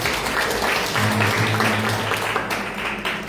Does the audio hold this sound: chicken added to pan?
no